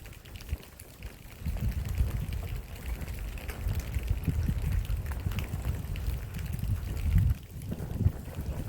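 Strong wind blows outdoors and buffets the microphone with a low, rumbling roar that swells and eases across the clip and stays loud and close.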